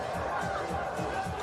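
A wrestling crowd at ECW Heatwave 95 chants in a steady rhythmic pulse, roughly four beats across the stretch, a dense arena roar heard from a distance without clear individual voices.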